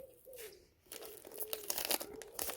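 Crinkly tearing and ripping of a heavily taped plant box, with sharp rustles and pulls close up, continuing in irregular bursts.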